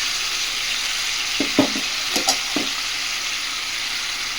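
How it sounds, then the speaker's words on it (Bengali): Mutton pieces sizzling in hot oil in a pan with whole garam masala spices and bay leaves, a steady frying hiss with a few soft stirring clinks and thumps. "এবার মাটনের টুকরাগুলো এখানে দিয়ে দেবো"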